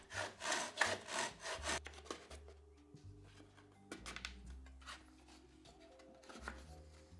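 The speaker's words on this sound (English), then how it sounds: "I also cut a piece of pine to fit inside the second dado slot and then flush cut 4 pieces" Rhythmic hand saw strokes flush cutting pine, a fast burst of back-and-forth rasping followed by slower, quieter strokes as the cut finishes.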